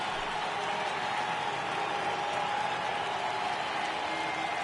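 A baseball crowd at an MLB game between the Twins and Astros rises and cheers for a 3-2 count, a steady, fairly faint wash of distant applause and crowd roar with no distinct peaks.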